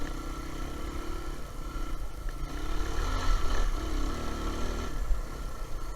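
Suzuki DR350 dual-sport motorcycle being ridden at a relaxed pace, with a steady mid-pitched single-cylinder engine drone mixed with wind rush and a slight swell in revs midway, and no talking.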